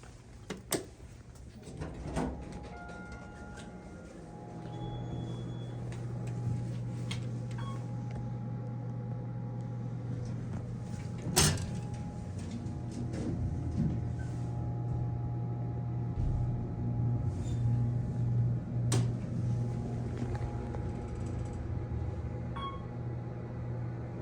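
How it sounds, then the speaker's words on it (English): Otis Series 1 hydraulic elevator at a hospital near the Heart Institute entrance, a scenic car: a steady low hydraulic drone runs through the ride, with clunks and sharp knocks of the doors at the start and partway through. "We have an Otis elevator."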